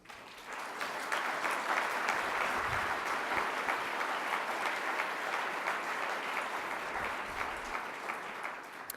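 Sustained applause from a conference audience at a French services event, building quickly to a steady dense wash of clapping that holds for several seconds and then eases slightly toward the end.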